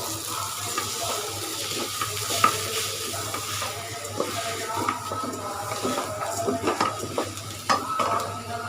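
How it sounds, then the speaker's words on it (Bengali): Washed, soaked rice fried and stirred in a hot pan, a steady sizzle broken by repeated scraping clicks of the spoon against the metal, close and continuous. "এখন আমি প্রথমত চালগুলা ভেজে নিব"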